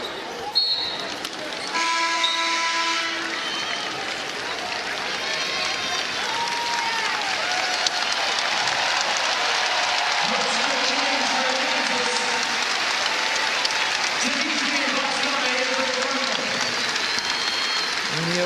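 Crowd applause and cheering fill Maples Pavilion at a Kansas versus Stanford NCAA women's basketball tournament game, steady and broad throughout, with sneaker squeaks and ball bounces mixed in under a commentator's voice.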